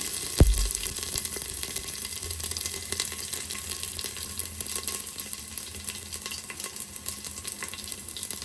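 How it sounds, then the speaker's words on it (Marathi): Cumin and mustard seeds sizzle in hot oil in a pan while cooking dal khichdi, a dense, continuous crackling fry that holds steady from start to finish with no talking. "आता आपण तेल तर गरम केलं आहे त्याच्यानंतर मी टाकणार आहे जिरे मोहरी त्याच्यानंतर लसूण"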